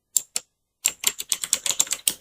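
Short burst of keystrokes on a computer keyboard while a command is entered in a Windows 11 command prompt: two isolated taps, a pause, then a quick rhythmic run of close, crisp clicks with no talking.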